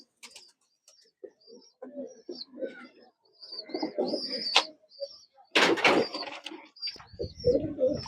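Pigeons at a sale cooing in soft, repeated low calls with occasional chirps, followed by a brief burst of fluttering or knocking and more cooing nearby.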